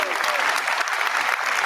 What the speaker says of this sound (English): give a huge round of applause for my brilliant friend and colleague,